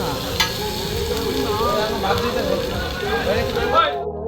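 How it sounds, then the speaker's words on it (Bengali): Pieces of pangas fish frying in a pan at a Mawa Ghat eatery, a dense, steady sizzle with stirring scrapes, heard under nearby voices talking. "এবং সেই সাথে ভাজা হচ্ছে পাঙ্গাস মাছটা পাঙ্গাস মাছের টুকরাটা খুব সুন্দর করে ভাজা হচ্ছে"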